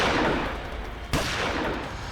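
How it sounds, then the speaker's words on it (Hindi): Gunfire in a tense TV courtroom-drama scene: a single sharp loud shot cracks out midway through a dense, noisy background of action. "इसी बीच हम पर गोलियां चलने लगी।"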